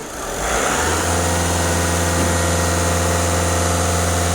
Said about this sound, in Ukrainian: Зараз бачимо 0, даю газ в пол.